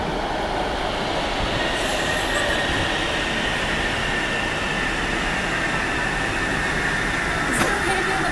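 A train rolls steadily past at close range, a continuous broad rumble of wheels on rail with a faint squeal near the end, filling the whole stretch with no talk.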